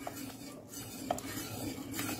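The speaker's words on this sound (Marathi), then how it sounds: "पटपट मिक्स करून घ्यायचं" A spoon stirs rice flour batter in a pot, producing a faint, steady scraping and swishing with a couple of light taps against the side.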